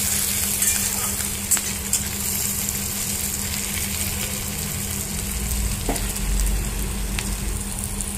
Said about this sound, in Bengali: পেঁয়াজটা আমি হালকা করে একটু ভেজে নিচ্ছি।